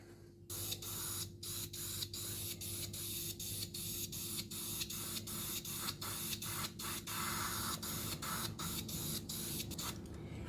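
Spray paint hisses steadily onto a model of the HMS Queen Elizabeth ship, broken by a series of brief pauses in a regular on-off rhythm, with a constant low mechanical hum underneath and no talking.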